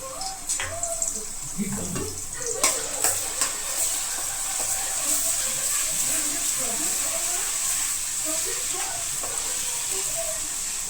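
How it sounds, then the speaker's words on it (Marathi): Ginger and garlic frying in oil in a pan as tempering for a mutton curry, giving a steady hiss and sizzle throughout with a few scattered clinks, close and moderately loud. "आता याला आलं लसूण घालून फोडणी."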